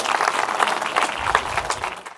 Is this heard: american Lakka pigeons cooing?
no